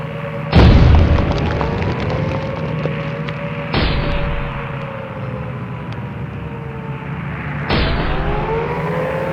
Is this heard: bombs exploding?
yes